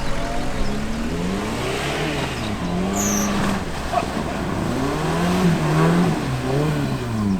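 A supercharged Suzuki Samurai SJ413, a heavily modified 4x4, drives through a lake, its engine revving and rising and falling in repeated surges with a brief high whine partway through.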